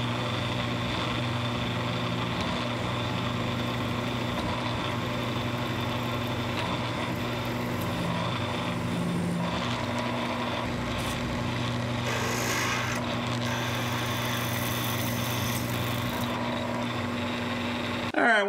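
A cordless rotary tool runs at about 1200 RPM while tapping a hole in metal, a steady high whine with strong tonal hum lasting throughout, with faint knocks and shifts of load and no talking.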